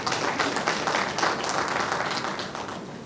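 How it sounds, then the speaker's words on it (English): A conference audience at an opening ceremony claps in a dense, sustained round of applause that holds steady throughout and then begins to taper slightly toward the end. "Can we give ourselves another applause?"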